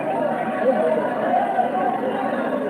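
Dense, steady chatter from a large crowd of students gathered together, a continuous murmur of many overlapping voices with no single speaker standing out.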